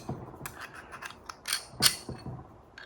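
Small metal parts of a Ford Model A distributor, a washer and bushing slid onto a bolt, make light scattered clicks and scrapes up close, quiet and with no talk.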